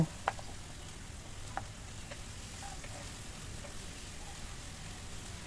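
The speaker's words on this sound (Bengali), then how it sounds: "1 কাপ পেঁয়াজ কুচি, 4-5টি কাঁচামরিচ কেটে দিলাম। দিয়ে কিছুক্ষণ নেড়ে চেড়ে ভেজে নেব।" Chopped onion and green chillies frying in hot oil, a faint steady sizzle with a few light clicks of a utensil at the start, quiet and without talk.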